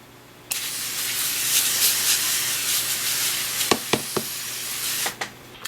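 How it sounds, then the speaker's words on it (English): A steady hiss of a spray bottle misting isopod enclosures for several seconds, followed by a few short sharp spritzes near the end, close and fairly loud. "we'll give these guys a good spray down"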